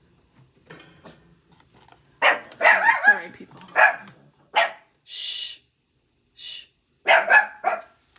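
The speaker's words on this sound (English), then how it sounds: "Why are you barking?" A dog barks in short sharp bursts, several times, close by, with a person talking and shushing between the barks.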